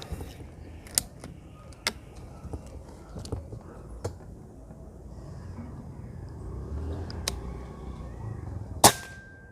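Sharp, short cracks of a Hatsan Nova Tact .22 PCP air rifle firing, several separate shots spaced about a second apart, close by, with mechanical clicks and handling noise between them.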